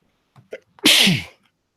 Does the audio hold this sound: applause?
no